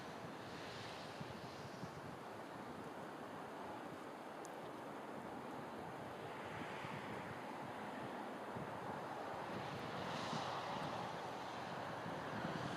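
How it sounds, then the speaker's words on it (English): Wind ripples the water of a Norwegian fjord near Geiranger, a steady broadband wash of lapping surf and wind noise that stays fairly constant throughout, with soft swells and no voices. "Now the wind is beginning to ripple the water."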